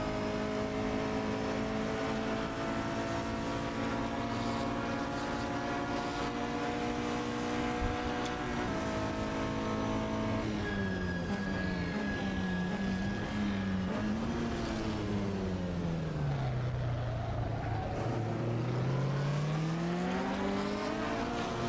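A vintage Porsche GT race car engine in a sim racing game drones loudly and steadily, then climbs and dips in pitch through shifts and revs, swooping low before rising again with no talk over it.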